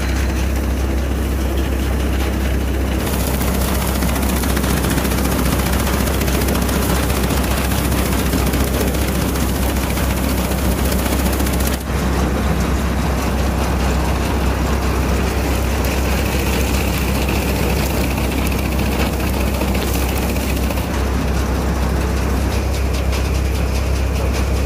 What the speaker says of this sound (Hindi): थ्रेसर जो चल रहा है ट्रैक्टर के द्वारा चलाया जा रहा है